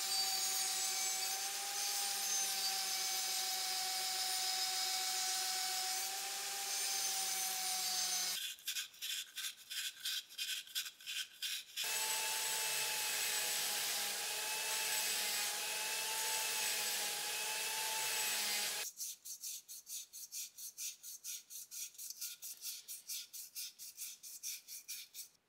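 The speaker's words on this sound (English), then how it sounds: "I'll clean up these rough parts of the casting." A hand file rasps over the rough parts of a metal casting in long, steady strokes, loud and close, with a quicker clipped rhythm of shorter strokes in between.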